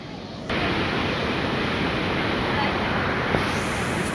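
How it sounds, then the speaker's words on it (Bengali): Sea waves on the beach at Puri in the early morning, a loud continuous roar of surf with wind buffeting the microphone and no clear talk over it. "সমুদ্রের ভীষণ ঢেউ"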